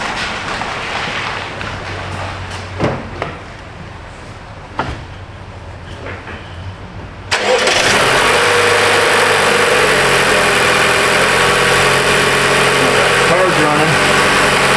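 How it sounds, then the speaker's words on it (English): A car engine cranks and catches at about seven seconds, then settles into a steady, loud idle close by, with earlier handling noises and faint activity before the start. "let me reach in and start the car up"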